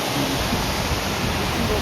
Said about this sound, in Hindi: ये है रावना फॉल, the famous